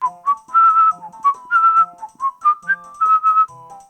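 A person whistles a lively tune, clear and close, in short bright phrases with brief gaps, alone without talk.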